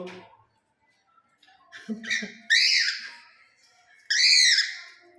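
A pet cockatiel gives sharp, high screeches, two loud bursts standing out near the end after softer chirps, with a person talking quietly in the background between calls.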